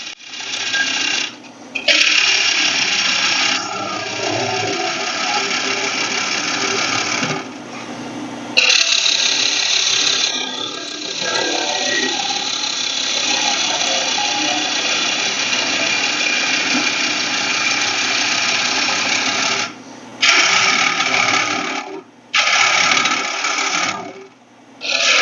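Wooden bowl spinning on a lathe while a swept-back bowl gouge hollows it, a loud continuous shrill cutting whine with brief pauses as the tool lifts off, several short gaps near the end.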